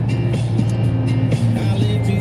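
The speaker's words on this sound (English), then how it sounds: "I've just fired my truck up." A truck engine idles steadily up close, a continuous low rumble with a faint higher whine, and the running note holds even throughout with no clear start-up moment.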